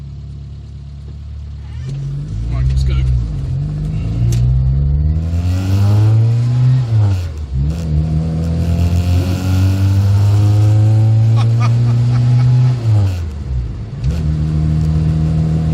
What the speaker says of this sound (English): See if we can get some acceleration from this enlarged engine. I think we've got 1275 cc's of raw power.